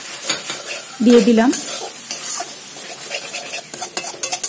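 Ground coriander, cumin, chilli and turmeric get stirred into an oily onion masala in a pan for chana paneer, with a spoon scraping in a brief rhythmic burst over a soft sizzle. A voice speaks briefly.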